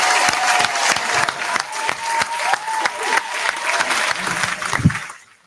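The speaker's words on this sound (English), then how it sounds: "I'm clapping." An audience claps steadily in a room, dense, even applause that carries on for several seconds and then fades away at the end.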